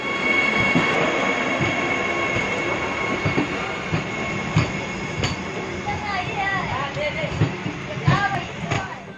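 A Vande Bharat Express train on its trial run from Thiruvananthapuram, moving at speed with a steady loud rumble, rail clatter and wheel squeals, and several sharp whistling squeal bursts toward the end.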